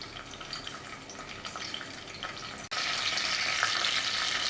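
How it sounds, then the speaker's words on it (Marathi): Green chili halves and curry leaves frying in hot oil, a steady close sizzle that suddenly grows louder and brighter partway through, with no talking. "तेल गरम झालं की त्याच्यामध्ये एक मिरची हिरवी मिरची त्याचे दोन तुकडे करून तेलात ॲड केलेली आहे आणि कढीपत्ता"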